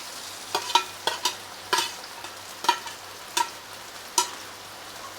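Onions, tomatoes, curry leaves and green chillies fry in a pan while being stirred, a steady soft sizzle broken by a few sharp scraping strokes of the spoon, close and clear with no voices.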